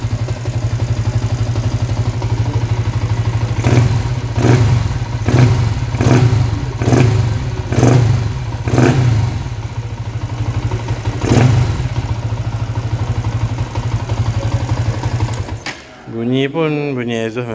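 A Yamaha Y15 motorcycle engine with a 62 mm bore kit, just overhauled, idles steadily, then revs in a string of sharp bursts, loud and close, before the idle settles and a voice briefly speaks.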